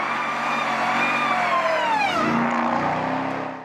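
A Ram TRX pickup accelerating hard on a rally stage, its engine note climbing loud and close through the gears with a brief dip and surge mid-pull, continuous and without talk.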